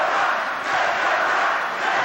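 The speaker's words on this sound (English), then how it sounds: "this crowd, look at that for Dublin. They are going crazy right now." Basketball crowd cheering wildly for Dublin at a Dublin vs. Academy game, a loud, dense and continuous roar that holds steady the whole time.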